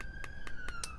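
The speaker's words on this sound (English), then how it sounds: "Sorry about the sirens." Police sirens wail outside at a distance, a faint high steady tone broken by four evenly spaced short clicks or knocks nearby.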